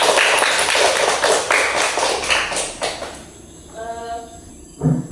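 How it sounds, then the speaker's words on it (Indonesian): Students in a small-group classroom lesson give a short round of clapping, quick overlapping claps for about three seconds, then it drops to quieter room sounds with a faint tone and a final knock. "Dan sekali lagi kita kasih tepuk tangan untuk kita semua ya"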